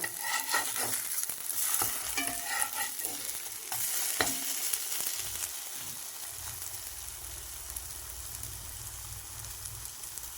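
Fritters frying in a pan in a home kitchen, with rhythmic scraping stir strokes over a steady sizzle for the first half, then a continuous, even frying hiss alone.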